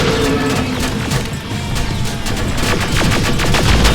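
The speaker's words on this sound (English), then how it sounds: "Now! Shoot before it reboots!" Rapid automatic gunfire rattles in the first-person shooter Terminator Resistance, with loud, dense bursts of shots and impacts that build toward the end.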